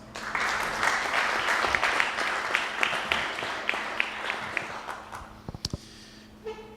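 A business competition audience gives a round of applause: many hands clapping steadily for about five seconds, then the sound thins and dies away, leaving a few scattered claps and faint room noise.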